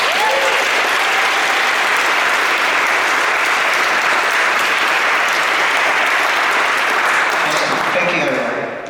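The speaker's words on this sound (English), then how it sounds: "I humbly request another round of applause for all of them" An audience at a winter merienda gathering applauds students in a long, dense, evenly sustained burst of clapping that stays loud throughout before easing off at the very end, with faint voices beneath it.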